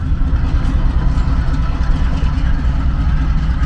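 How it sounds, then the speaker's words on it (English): A loud, steady train engine rumble drones on throughout, low and close, with no talking. "The engine on the train is going backwards."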